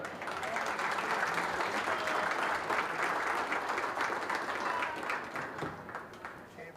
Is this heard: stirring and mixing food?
no